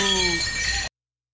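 At Crozet Pizza, a pie just out of the oven hits the floor with a clattering crash whose ringing, glassy-sounding tones fade out before the sound cuts off abruptly into silence.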